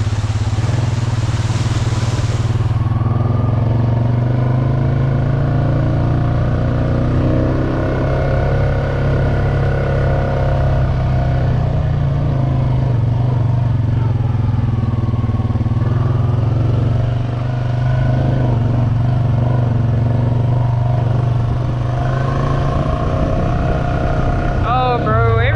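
Four wheeler ATV engine idling and revving while driving through a deep, muddy creek, a loud steady droning motor close by for the whole stretch.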